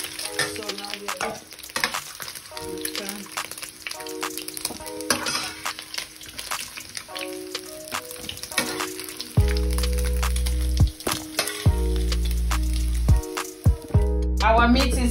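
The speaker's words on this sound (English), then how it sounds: "Our meat has been fried, as you can see." Beef frying in a pan with a steady sizzle and crackle under frequent spoon scrapes and clinks, close by, while low steady hum tones run through the later part.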